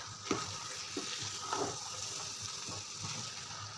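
Chana dal gets stirred in a pan over soft frying sizzle, with a few scraping, wet clanks of the spoon rising and falling in short irregular strokes, close and fairly quiet.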